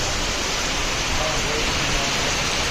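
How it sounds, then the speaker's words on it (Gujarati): Heavy monsoon rain pours down steadily, a dense, even hiss with no break in intensity, loud and close, as if drumming near a roof shelter. "પણ વરસાદ મિત્રો ઊભું રહેવાનું નામ જ નથી લેતો"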